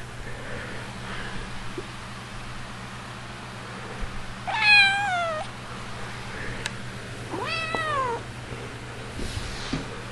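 Kitten meowing indoors in a few separate rising-and-falling cries, moderately close, over a steady low background hum with no talk.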